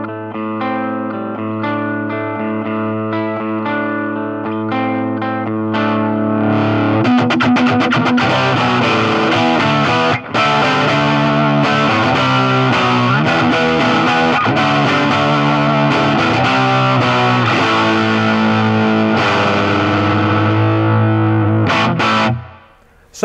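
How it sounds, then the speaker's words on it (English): Yamaha Pacifica 012 electric guitar playing clean chords and lines with a lush swirling chorus and flanger sweep, washed in heavy reverb, sustained and loud for over twenty seconds. "the last clean sound you heard was draped in chorus and flanger and a lot of reverb"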